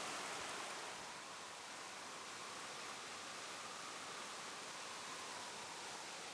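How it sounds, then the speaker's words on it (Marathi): Foaming waterfalls pour down high cliffs in a Kolhapur forest, making a steady, dense roar of rushing water that holds even throughout, with no voices. "उंच कड्यांवरून कोसळणारे हे फेसाळते धबधबे म्हणजे निसर्गाचा अद्भुत आविष्कारच"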